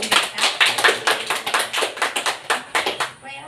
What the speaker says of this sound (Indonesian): berikan aplaus kepada kita semua